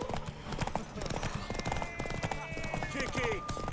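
Horse hooves clip-clop at a steady trot in The Witcher 3 video game, close and continuous under a voice, with a brief whinny and game ambience mixed in.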